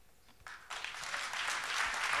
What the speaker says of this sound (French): applaudissements pour les jeunes sapeurs-pompiers de Villefranche-sur-Saône